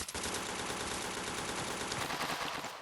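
Sustained automatic weapon fire in a shooting video game, a dense continuous rattle of rapid shots at steady loudness that cuts off near the end.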